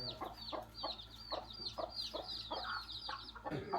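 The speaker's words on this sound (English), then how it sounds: "My uncle and grandmother also raise a flock of chickens." Chickens cluck in quick repeated bursts, a steady rhythmic chatter of several birds close by, with a faint low hum underneath.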